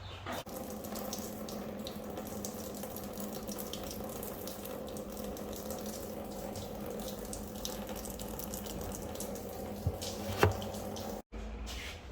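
Fuel trickling from a Dingo K-9 mini loader into a tub set beneath the machine, a quiet continuous pouring, splashing stream with a few small knocks near the end and no speech.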